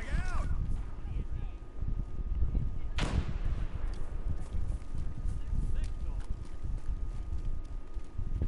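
A frag grenade goes off in a video game, one sharp loud blast partway through that rises above a constant rumbling battlefield roar of wind, hooves and distant gunfire.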